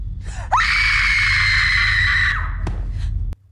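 A woman lets out a long, piercing scream in a horror film, one loud sustained cry lasting about two seconds before it cuts off, with a low rumble beneath.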